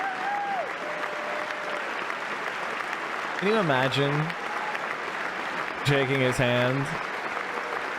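Sustained applause fills a session of the US Congress, a broad steady wash of clapping from a large chamber that runs continuously beneath someone speaking.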